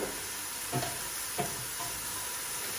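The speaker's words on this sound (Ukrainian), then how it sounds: "Шпинат закладаємо у пательню без нічого" Spinach cooks in a dry frying pan with no oil, giving a soft steady hiss broken by a couple of faint stirring scrapes, quiet and close.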